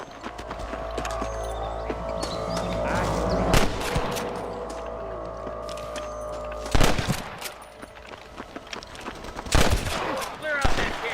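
Gunfire from a Western shootout in the video game Red Dead Redemption: scattered shots and sharp cracks of varying loudness over a low rumbling background, with a few louder bursts near the end and voices briefly audible.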